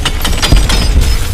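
Pickaxe mining in the video game Animal Company, a short burst of loud crunching, breaking hits right up close, lasting barely over a second with no voice.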